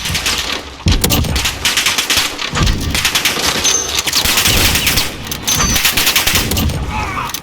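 AK-47 automatic gunfire in a first-person shooter video game, loud repeated bursts of rapid shots with brief pauses between volleys, close and dominant throughout.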